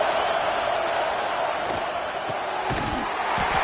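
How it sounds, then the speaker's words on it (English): A roaring football stadium crowd at a Razorbacks home game, a dense, loud, continuous wash of cheering and noise that never lets up. "listen to this crowd noise. This stadium is vibrating."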